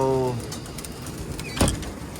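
A pigeon gives a brief low coo at the start, then outdoor ambience continues with a soft thump and a passing rustle.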